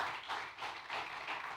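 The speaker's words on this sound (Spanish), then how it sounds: "Fuerte el aplauso para los modelos de Misión Vida." Steady applause from a crowd, a dense wash of clapping that rises and falls slightly, with no voices standing out.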